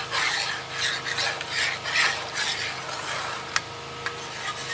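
A spoon stirs cocoa powder into milk, making a steady, close rasping and swishing that repeats in circular strokes, with a couple of faint ticks of spoon against the vessel.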